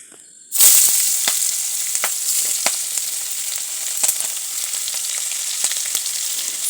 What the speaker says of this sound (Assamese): মই ভাজি আছোঁ